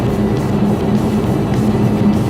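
A 2018 Ford EcoSport cruising on the highway, heard from inside the cabin as a steady, loud drone of engine, tire and wind noise with no break.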